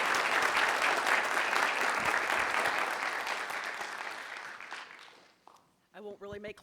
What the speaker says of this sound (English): we already gave you a very great round of applause